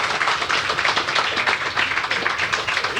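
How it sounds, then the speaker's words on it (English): Dense, steady applause from an audience at a design awards ceremony, with sustained clapping filling the whole stretch without a break and no voices on top. "A round of applause for all of these amazing projects that we just saw up here."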